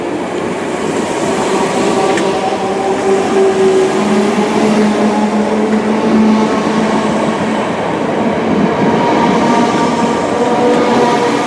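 A Merseyrail train rolls on toward Hooton station, a loud, steady rumble with faint wheel noise and sustained motor hum heard from on board.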